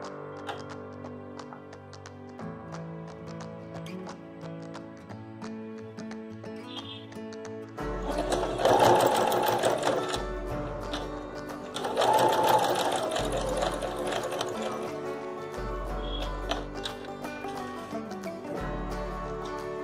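Home sewing machine stitching a boutique-style dupatta, running in several rapid whirring bursts that start and stop, fairly close, with quieter gaps of handling between runs and brief speech.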